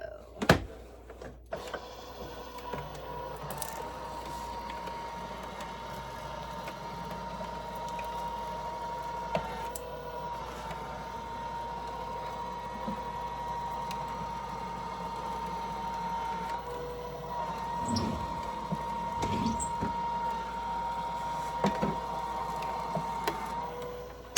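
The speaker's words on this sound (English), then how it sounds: "And then through the cutter we go." An AccuQuilt fabric die cutter is cranked steadily, giving a continuous mechanical whirring and grinding with scattered ratcheting clicks that lasts over twenty seconds at moderate, close volume, with no talking.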